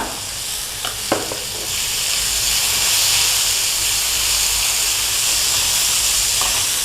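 Chicken pasta with chilli flakes and chilli paste sizzles loudly in a pan, a steady close hiss of frying with a couple of stirring scrapes at the start.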